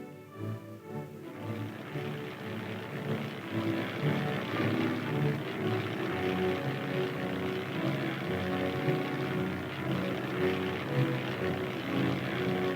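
A 1950s U.S. Army reconnaissance aircraft with a propeller engine drones steadily overhead, a continuous low throbbing hum that holds at moderate loudness throughout with no talking.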